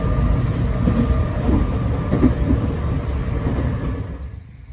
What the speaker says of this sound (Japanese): こんな日は電車に乗り込み